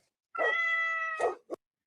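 A single cat meow sound effect, a drawn-out tonal cry of about a second that ends in a short chirp, close and clear against silence.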